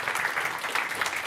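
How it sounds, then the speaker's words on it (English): An audience at a games festival talk claps after a presentation, a dense, even burst of applause that stays steady for the whole moment with no voices over it. "so big round of applause for Kenny Young"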